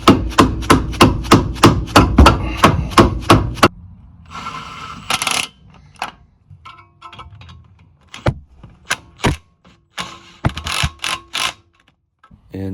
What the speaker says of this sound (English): torque your 17 millimeter caliper bolts to 65 foot-pounds